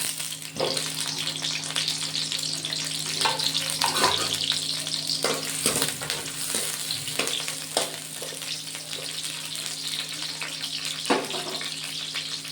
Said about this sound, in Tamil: பெரிய வெங்காயத்தை போட்டு வதக்கிறதுக்கு வச்சுக்கிறேன்